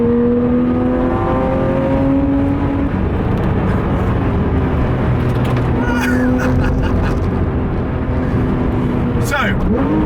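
A Porsche 911 GT3 RS with a 3.8-litre flat-six engine runs on a race track, its steady engine drone rising in pitch as it accelerates, with another car passing and a voice talking over much of it.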